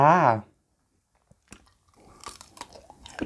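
Someone bites into and chews sweet tamarind pods (makham mu), making soft crunching and snapping sounds close to the mic after a brief spoken line.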